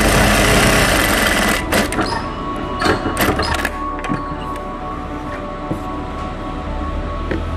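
A Jack A2 industrial sewing machine runs during a knife timing check, giving a fast mechanical whirring with rapid stitching clatter and several sharp clicks and knocks that fade toward a lighter hum.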